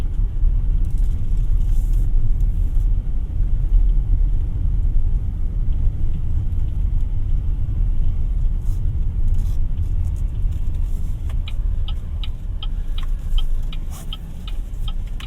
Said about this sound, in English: We're riding on a brick road right now.